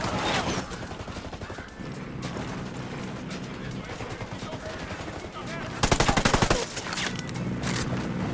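Gunfire in the video game Ghost Recon Wildlands: rapid automatic bursts crackle almost continuously, with a louder, denser volley near the end, while game voices talk underneath.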